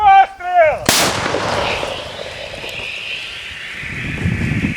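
A single loud, close blast from a Ukrainian army artillery gun booms out, followed by a long rumbling echo that fades slowly into wind noise.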